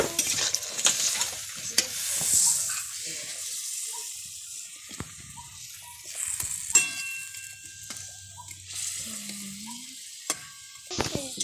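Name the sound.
fried fish added to the pan, sizzling and being stirred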